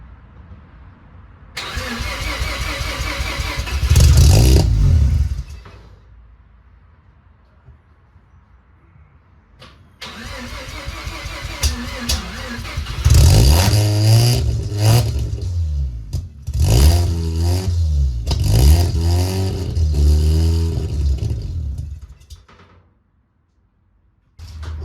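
A car engine cranks and catches after its fuel pump was reinstalled, then revs loudly in several rising bursts between quieter idling stretches, with a brief silence near the end.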